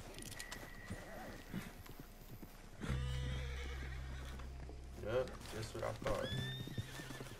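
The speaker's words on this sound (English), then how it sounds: "There's a horse over there pretending like nothing even happened." A horse in Red Dead Redemption 2 gives clear neighs and whinnies alongside hoof clip-clops, fairly close, with someone speaking briefly amid other game sounds.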